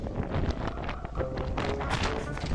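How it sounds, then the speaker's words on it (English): Strong outdoor wind buffets the microphone, a steady roaring rumble with gusty surges across the whole stretch and no clear voices. "Damn, it's windy."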